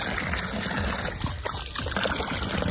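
Water poured over a dog named Chloe while she is being washed, a steady rushing splash that runs the whole time without a break.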